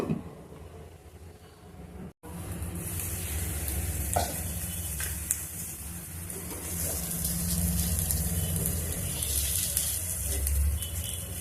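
Ridge gourd masala curry fries slowly in oil in a pan, making a dense, continuous sizzle up close. It cuts out briefly near the start, then carries on with occasional stirring scrapes.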